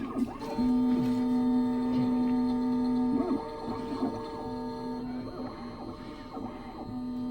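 A Mini Condor Plus key machine cuts the left, right and front of a key during calibration, giving a steady motor hum with sustained whirring tones and intermittent scraping, close and continuous without speech.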